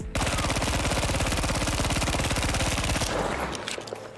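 Sustained rapid automatic gunfire from a weapon in Battlefield 5, loud, close and evenly spaced for about three seconds, then cutting off into fading echoes and scattered debris noise.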